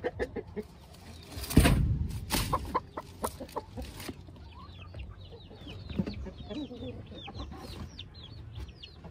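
Chicks and chickens cluck and peep on a small farm. There are some knocks and handling noises early on, then faint high chirps continue through the rest of the clip.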